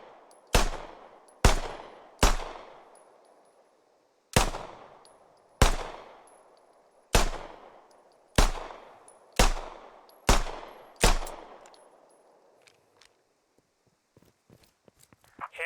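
Pistol shots in the video game Squad, about ten sharp single reports fired one at a time at an uneven pace, each ringing out with a long echoing tail, clear and close with no voices.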